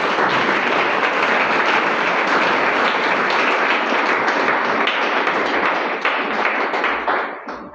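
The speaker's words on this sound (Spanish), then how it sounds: "Brindale un fuerte aplauso al Señor." Loud, dense applause from a congregation at a church vigil, a continuous roar of many clapping hands that holds steady for several seconds before starting to thin near the end.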